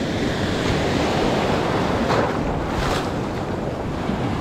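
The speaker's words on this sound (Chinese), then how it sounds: "这个海浪一波一波的推过来的这种感觉真的实在是太美" Ocean surf rolls onto a surfing beach at sunrise as a continuous, close roar of breaking waves. Gusts of wind buffet the microphone throughout, and no one speaks.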